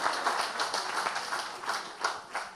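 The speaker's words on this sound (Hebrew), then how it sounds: "בהחלט מחיאות כפיים." Audience applause at a Kabbalat Shabbat gathering: a dense, steady wash of many hands clapping throughout, with small swells in loudness and no voices standing out.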